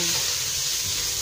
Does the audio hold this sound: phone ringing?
no